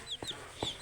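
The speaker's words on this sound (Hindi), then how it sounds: "फिर मैंने मुर्गी को साइड पर रखा" Two short clucks from a chicken in the blocky sandbox game King craft, soft and fairly close, separated by a brief pause, with no one talking.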